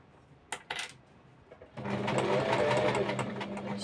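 A sewing machine stitches the edges of a zipperless cushion cover, starting after a few light clicks and taps and then running in a steady, close, loud whir for the last couple of seconds.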